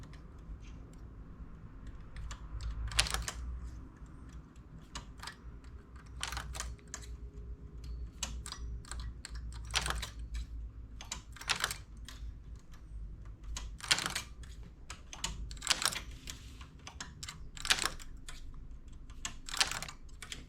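A knitting machine clacks as its carriage passes, with sharp irregular clicks and rattling bursts over a low hum, close up and without talk.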